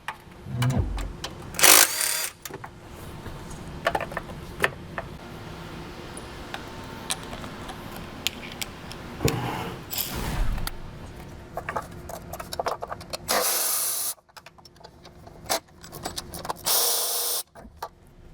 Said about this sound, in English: we're going to use a 10 millimeter socket to pull off the 4 fuel rail bolts, 2 on each side